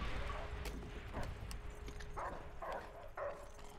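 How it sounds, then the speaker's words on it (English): Dogs in Call of Duty: World at War bark and whine in a string of short, sharp yelps over dense game noise. "I don't want to kill these dogs, but I have to for my survival."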